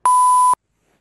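A single loud electronic voicemail beep tone at a steady pitch, lasting about half a second and then cutting to silence, the signal to leave a message on an answering machine.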